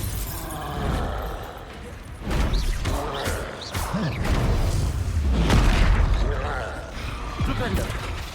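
A Bombarda spell explodes in Hogwarts Legacy: heavy booms and crashing impacts roll through a noisy fight, with a voice speaking over the blasts.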